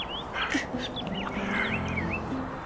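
Ducks quack several times over a steady outdoor background, with nasal calls and a few higher bird chirps scattered through, fairly close and without talk.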